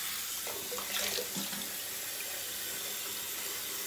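Water runs steadily from a tap into a congested bathroom sink during a morning shave, a constant hiss of splashing flow with a few faint clinks near the start.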